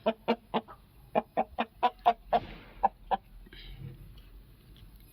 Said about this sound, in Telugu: ఇది వచ్చేసి గుబ్బ కలిగినటువంటి పెట్ట